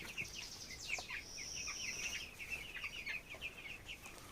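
Broiler chickens cluck and call on a farm, giving many soft overlapping clucks and brief chirps at a moderate distance over a quiet, low hum.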